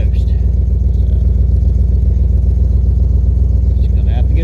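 A van engine with a broken muffler runs steadily, giving a loud, low, pulsing rumble that stays close and constant throughout.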